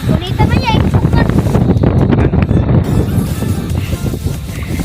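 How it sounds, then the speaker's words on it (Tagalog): Wind blowing at sea on a fishing outing in a small boat, buffeting the microphone with loud rumbling gusts while people talk over it. "May hangin nga ni."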